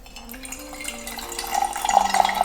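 Water pours steadily from a handmade teapot into a vessel, the trickle brightening and rising in pitch as it fills, close and clear with no talking.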